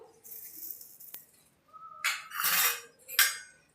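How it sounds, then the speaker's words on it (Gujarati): Puffed rice tossed with chaat masala and salt in a bowl, a few irregular bursts of rustling and utensil clinks separated by quiet gaps. "1 ચમચી જેટલો આપણે ચાટ મસાલો લીધો છે એ પણ નાખશું અને બધું મિક્સ કરી લેશું."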